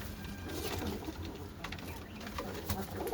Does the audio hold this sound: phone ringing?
no